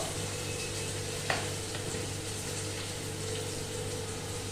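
Tomato goes into a hot pan for a spinach gravy with methi kofta and sizzles steadily at close range, with one sharp clink of a utensil near the start and a continuous low hum from the stove underneath.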